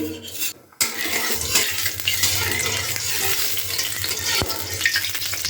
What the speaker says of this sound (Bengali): কড়াইটা খুব ভালো করে গরম হয়ে গেছে এবার দিয়ে দিচ্ছি পরিমাণ মতো সর্ষের তেল